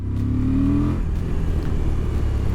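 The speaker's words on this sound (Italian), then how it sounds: "motore Euro 5 che mantiene anche un gran bel sound" A Euro 5 motorcycle engine revs up loud and close accelerating out of a curve, its pitch rising for about a second before settling into a steady, sustained roar.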